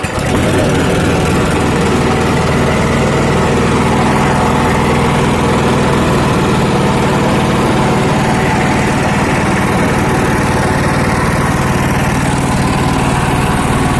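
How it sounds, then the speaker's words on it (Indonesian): A Honda GX240 small gasoline engine runs steadily at its lowest idle, a loud, continuous close-up drone with a low throbbing beat and no pauses. "Ini mesinnya sudah hidup. Ini kita langsam terkecil nih."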